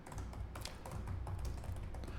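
A computer keyboard being typed on to enter a product title in an admin panel, with dense, quick, soft key taps running continuously over a low background hum; no voices.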